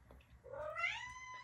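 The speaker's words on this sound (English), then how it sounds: "that's my cat trying to get out of the window." A house cat meows at a window, trying to get out: one drawn-out, rising yowl, close and fairly quiet, over low room hum.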